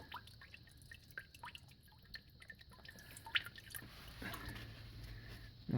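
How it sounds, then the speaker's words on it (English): Slow, irregular drips of motor oil falling from a 2011 Subaru Outback's drain into a pan, soft and close, with faint background hum and occasional small splashes. "loosen it to where it's dripping. And then I just like to let it drip a little bit"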